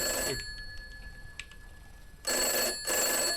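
A telephone rings inside the horror video game I'm Counting To 6, first as a short ring, then after a quiet stretch as two loud, repeated ring bursts separated by a brief pause.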